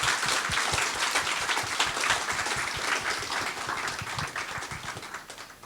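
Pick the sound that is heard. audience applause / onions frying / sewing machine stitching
audience applause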